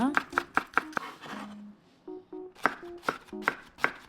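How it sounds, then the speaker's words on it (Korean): Crisp knife chops through green onions on a cutting board in a quick, steady rhythm, close and clear, with brief pauses between bursts of strokes. "대파는 송송 썰어주세요."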